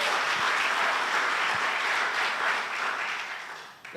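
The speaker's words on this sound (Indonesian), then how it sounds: "Beri tepuk tangan buat Tuhan Yesus." A church congregation claps together during a Sunday worship service, a steady wash of applause that holds loud for a few seconds and then fades out, with no talking over it.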